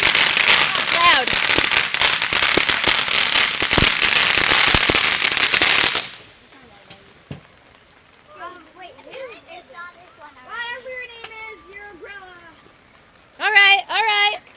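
Dense, loud fireworks burst and crackle at a live outdoor show for about six seconds, then cut to quieter moments where people talk and cheer.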